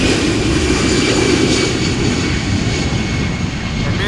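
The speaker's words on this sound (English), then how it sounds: "A319 is taking off and going to Manchester in the United Kingdom." EasyJet Airbus A319 taking off at Amsterdam Schiphol Airport, a loud, continuous broadband jet engine roar that stays steady throughout, heard alone with no talking.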